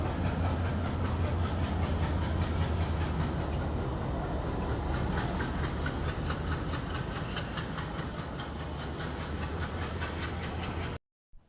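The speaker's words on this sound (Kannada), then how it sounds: "ಈಗ ಟ್ರೈನ್ ಬಂತು ನಾಸಿಕಿದ್ದು ಅರ್ಧ ಗಂಟೆ ಬೇಗನೆ ಬಂತು" A train rumbles steadily nearby, its engine droning and wheels clattering for several seconds before the sound abruptly cuts off.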